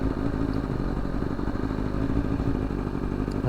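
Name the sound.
motorcycle engine running with Brent Tuning flash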